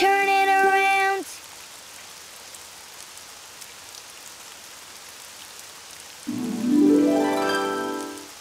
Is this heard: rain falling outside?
yes